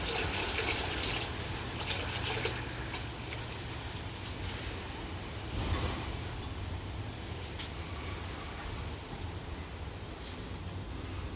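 Acid poured into water during a home attempt at making copper sulfate, a steady soft trickling and splashing of liquid running throughout at moderate volume, with no voices.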